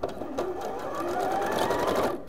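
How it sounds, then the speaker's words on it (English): Sewing machine running its needle off the end of the fabric, a close, steady rapid whir of stitching that holds an even pace for a couple of seconds. "I'm just going to run the needle off of the project"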